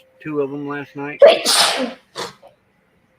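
A person gives a single loud, sudden sneeze right after a short spoken remark, followed by a brief trailing breath, close and clear in a quiet setting.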